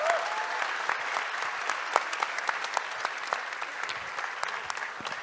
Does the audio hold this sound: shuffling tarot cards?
no